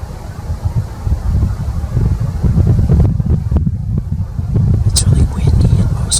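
Steady wind buffeting the microphone outdoors in British Columbia in November, a low rumbling roar that runs throughout with gusty fluctuations.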